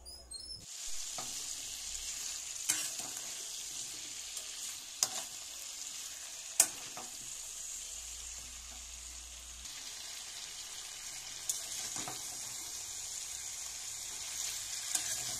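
A vegetable curry with green chilli, turmeric and salt is stirred and fried in a pan, giving a quiet continuous hiss broken by scattered scrapes and taps of the spoon.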